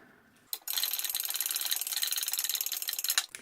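A spray bottle of alcohol sprays a rapid series of fine bursts over melt-and-pour soap, hissing steadily for about three seconds, with a click at the start and end.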